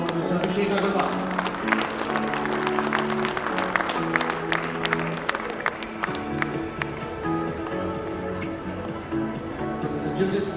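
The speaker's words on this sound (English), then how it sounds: "Let's have a huge round of applause for Mr." Audience applause at an academic event at IIT Bombay, a broad steady wash of clapping from a crowd lasting throughout, with music and voices mixed underneath.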